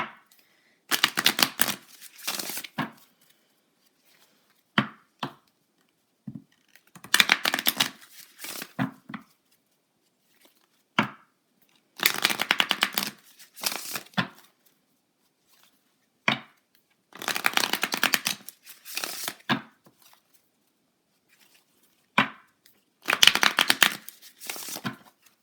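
Tarot cards from a moon-themed deck being shuffled in repeated brisk bursts of riffling and slapping, separated by short pauses, close and fairly quiet with no voices.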